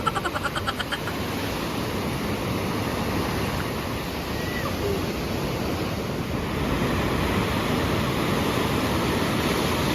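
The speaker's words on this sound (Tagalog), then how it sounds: "Ang lakas ng alon kasi nga may low pressure area na naging bagyo na si Kajiki." Strong ocean waves wash onto a beach at El Nido, Palawan, under storm-driven conditions, a continuous roaring surf with gusty wind buffeting the microphone throughout.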